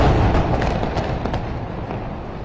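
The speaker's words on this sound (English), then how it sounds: "the raids are directly targeting the tower" Airstrike explosions hitting a tower building in Gaza rumble as a heavy, sustained low roar with scattered sharp cracks, loud and close, gradually easing in intensity with no speech.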